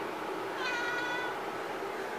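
A young cat gives a single soft, drawn-out meow over a steady indoor background hum, faint and fairly close, with no talking.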